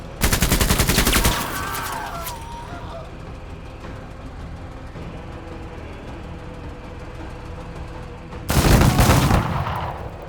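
A squad lays down suppressing fire in the Menace video game, loud bursts of rapid gunfire at the start and end framing a quieter stretch of distant shooting and rumble.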